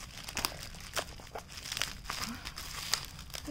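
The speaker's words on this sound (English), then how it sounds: "let's cut through all this bubble wrap" Bubble wrap packaging is cut open and handled, giving faint, close crinkling and crackling in short irregular bursts with occasional sharper snaps.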